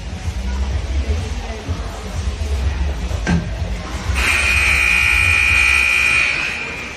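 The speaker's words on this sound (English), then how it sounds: "And with that buzzer, brings us to the end of the game." A loud, sustained electronic game-end buzzer sounds for about two seconds over crowd noise and arena chatter at an ice hockey game, then fades.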